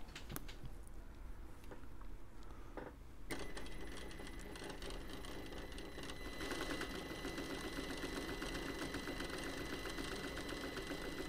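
A Juki sewing machine runs steadily and close by, a fast continuous mechanical whir and rattle that grows louder partway through, with no talking.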